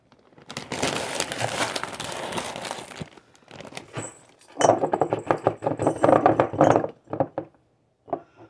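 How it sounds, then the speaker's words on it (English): A collapsible pop-up silicone funnel being fitted onto a jar, with crinkly rustling, soft plastic flexing and clinking handling noises in bursts, then a pause and a few final taps. "now I'm going to put my funnel on"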